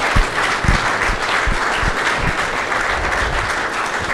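An audience at a Dakota State University athletics hall of fame event claps for Bud, a steady close round of applause with a few sharp individual claps standing out.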